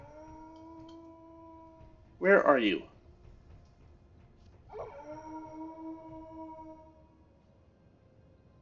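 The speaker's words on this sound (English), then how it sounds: "Be quiet, puppies." Puppies in an indoor space give a sharp yelp followed by a drawn-out, wavering howl, heard moderately close, while a person speaks briefly over the noise.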